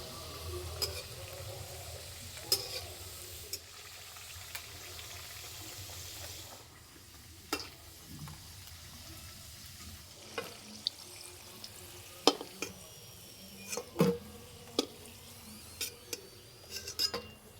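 Palm-fruit saptapuri pitha fries gently over low heat, a soft continuous sizzle of oil broken by sharp clinks and taps of a utensil against the pan.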